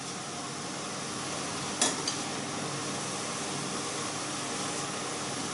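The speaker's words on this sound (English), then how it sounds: "Now I'll let them saute on their own slowly in the big pan." Mushrooms sauté slowly in a large pan for mushroom soup, a steady low sizzle throughout with one brief clink near the start.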